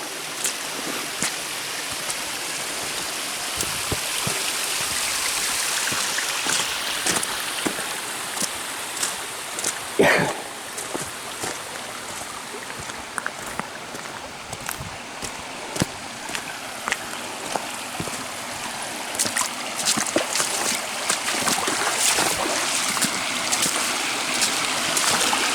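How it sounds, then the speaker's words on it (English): A small side waterfall at Eternal Flame Falls creek in Chestnut Ridge Park, Orchard Park, rushes steadily nearby, a continuous broad splashing flow with occasional louder spatters and no talking. "there's a little side fall."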